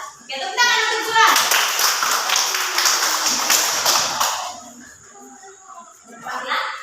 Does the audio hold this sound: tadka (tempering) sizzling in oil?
no